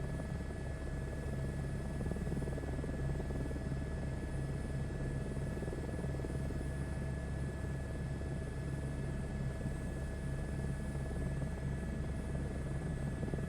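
A Pilatus PC-12 turboprop in Microsoft Flight Simulator 2024 gives a constant, even engine and propeller drone with a steady whine and no change in level.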